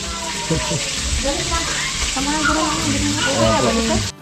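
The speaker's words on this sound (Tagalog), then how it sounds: "Prito ng isda." Steady crackling sizzle of fish frying in oil runs throughout, with a person talking over it.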